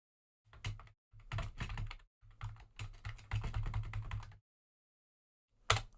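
Bursts of computer keyboard typing while editing text on a web page, clicking in quick rhythmic clusters with short pauses between runs and one last sharp keystroke after a gap.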